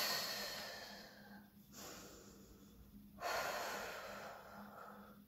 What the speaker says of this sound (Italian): Rimaniamo 5 respiri profondi.